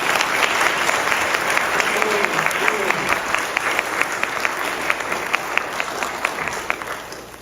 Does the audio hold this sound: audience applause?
yes